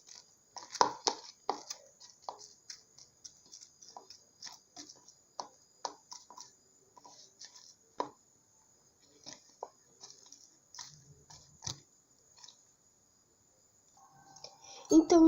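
Toilet paper stirred into dish detergent to make slime, heard as soft wet squelches and small clicks repeating at an uneven pace, close and fairly quiet, with a brief louder burst at the end.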